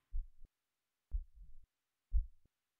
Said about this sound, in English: just focus on my heartbeats